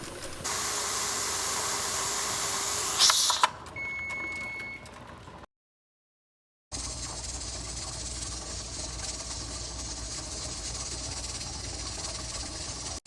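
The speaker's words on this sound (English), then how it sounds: "Now that we have a steady stream of steam coming out of the canner, we're going to wait 10 minutes" Steam hisses out of a pressure canner's vent in a steady, loud rush, cuts off briefly into silence, then resumes as a continuous hiss.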